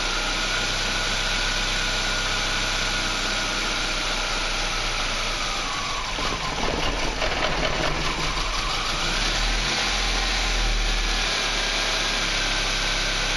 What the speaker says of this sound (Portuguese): Legal, o carro ligou.